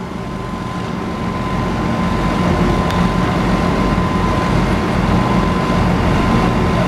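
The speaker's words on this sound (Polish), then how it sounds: "kolejna maszyna to ciągnik rolniczy plus agregat uprawowy" Steady, rumbling engine drone of a farm tractor pulling a cultivator in a harvest festival parade, holding constant throughout with a faint mechanical whine and no talking.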